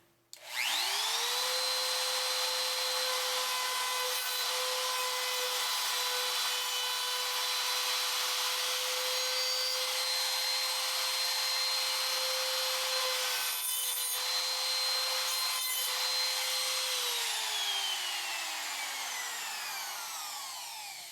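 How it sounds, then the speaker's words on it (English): A large Porter-Cable router with a trim bit cuts into oak, spinning up to a loud, steady high-pitched whine that holds for about sixteen seconds before winding down, with no talk. "I would have used this router had that trim bit fit in a 1/4 inch shank router, but it didn't, so I had to use the big Porter cable"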